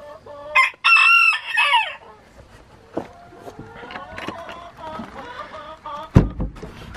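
A rooster crows loudly and close by, a long strained call, followed by softer clucking and chatter from hens scattered through the rest of the clip.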